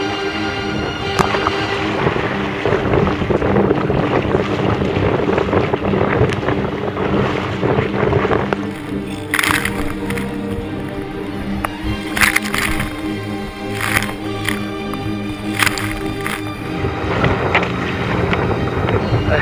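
A sailboat tacks back and forth in strong wind off the North Carolina coast, with heavy wind buffeting the microphone, water rushing along the hull and sharp flapping bursts in the second half.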